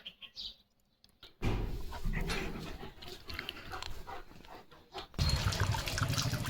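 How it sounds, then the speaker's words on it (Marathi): Leo the dog laps drinking water in quick wet bursts, close and fairly loud, with a short quiet stretch near the start and a louder run of lapping toward the end. "पाणी पेते बाळ"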